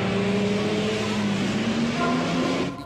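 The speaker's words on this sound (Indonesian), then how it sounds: "mobil Raden Cokro tak bisa dikendalikan yang melaju sangat kencang." A car speeds out of control in an Indonesian horror film scene, its engine a steady, loud roar with a sustained droning tone that cuts off abruptly near the end.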